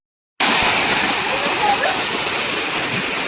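Waterfall at Mahabaleshwar roaring steadily after a brief silent start, a loud dense wash of falling water that continues unbroken.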